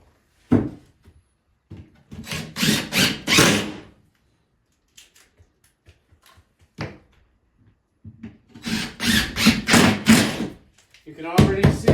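A screw driver runs screws into drywall on a soffit built to hide a vent pipe, in two loud buzzing bursts of several short pulses each, separated by quiet handling knocks.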